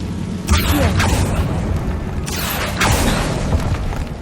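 A spell cast in the Hogwarts Legacy video game sounds as two bright magical bursts with low booming swells over a dense game backdrop, each rising sharply then fading.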